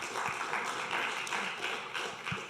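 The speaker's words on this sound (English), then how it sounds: "Give them a round of applause." An audience at a Wednesday-morning 1 Million Cups pitch event applauding, a continuous moderate wash of clapping that stays even throughout, heard at some distance.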